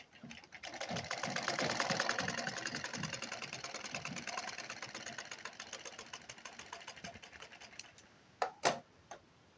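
A sewing machine stitches a blouse in a fast, even run of close mechanical clatter that gradually slows and fades, ending in a few sharp separate clicks.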